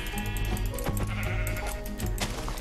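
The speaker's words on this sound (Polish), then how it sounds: "O, i mamy tutaj pierwsze pierwsze owce, które będę chciał zabić oczywiście" Sheep bleat repeatedly in the Minecraft video game, several short wavering cries overlapping one another against game background music, fairly loud and close with no talk.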